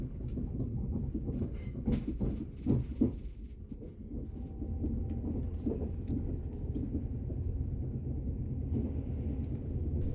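A Northern Class 195 diesel train heard from inside the carriage as it travels the Hope Valley line through the Peak District, a steady low rumble of wheels and engine with a few louder clunks near the start.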